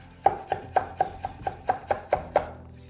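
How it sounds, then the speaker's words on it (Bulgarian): Knife chopping fresh rosemary on a cutting board for potatoes, about nine crisp, evenly spaced strikes at a steady rhythm, close and clear with no talking. "Ще си нарежа и малко розмарин за картофките."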